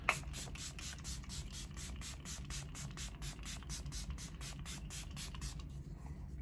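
Makeup setting spray is pumped from a bottle in a rapid run of about twenty short, hissing mist bursts in steady rhythm, close and fairly soft, ending in quiet.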